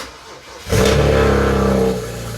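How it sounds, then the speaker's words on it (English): A BMW 335i engine cranks and fires up loudly on a cold start after a moment of quiet, revving high then settling into a rough, throbbing idle nearby. "But first, we got to go ahead and get a cold start."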